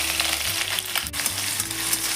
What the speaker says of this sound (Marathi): आता सर्वात पहिल्यांदा आलं लसूण पेस्ट घालायचं आहे.